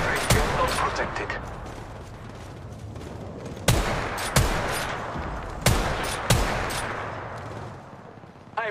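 Gunfire in the battle royale game Apex Legends Mobile: several sharp, loud shots and short bursts ring out at intervals over a steady wash of in-game ambience.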